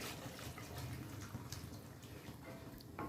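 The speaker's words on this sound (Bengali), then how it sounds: "এরপর আমি এর মধ্যে দিয়ে দেবো 1 বাটি জল।" A bowl of water poured into a brinjal masala curry, a steady low splashing and trickling stream, soft and close, running without a break.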